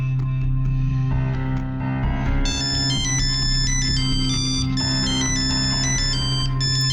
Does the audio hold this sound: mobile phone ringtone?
yes